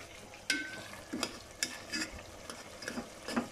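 Tomatoes and onions being mashed in a pan with browned chicken, soft repeated scrapes and taps of a spoon over a gentle background sizzle, close and fairly quiet.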